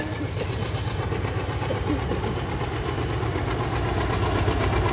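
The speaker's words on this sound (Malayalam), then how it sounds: "ഒരു അടിപൊളി ട്രെയിൻ കേട്ടോ." A train passes nearby in hilly country in Karnataka, a loud, continuous rolling rumble with a rhythmic clatter of wheels over rail joints that holds steady throughout.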